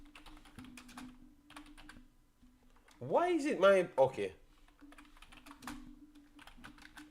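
Rapid, light clicking from a computer keyboard, in bursts throughout. Someone briefly speaks midway, and the typing continues before and after his voice.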